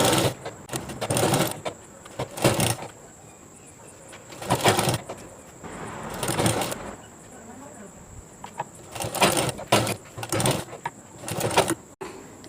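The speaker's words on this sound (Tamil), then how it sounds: "நான் இந்த இடத்துல இருந்து உங்களுக்கு தையல் ஸ்டார்ட் பண்ணேன்" A sewing machine runs in repeated bursts while stitching pleats into the loose leg section of a free-size chudidhar bottom, with short pauses between runs and quieter background sounds in the gaps.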